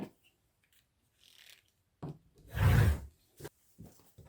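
Fabric being cut for a 1.5 inch quilting strip, a single brief rasping slice in the middle amid a few light knocks and rubs on a cutting surface, fairly close and otherwise quiet.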